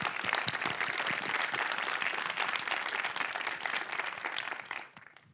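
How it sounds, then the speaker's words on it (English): A conference audience at a developer event gives a round of applause: dense, lively clapping from many people, steady and fairly close, then thinning out and fading to quiet in the last half second. "applause"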